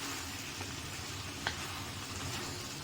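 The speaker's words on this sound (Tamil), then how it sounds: "இது வதக்கும் போதே வெண்டைக்காய் வெந்துட்டு இருக்குங்க." Okra sautéing in a pan for a tamarind kuzhambu, a steady close sizzle and frying hiss with a faint stir or clink partway through.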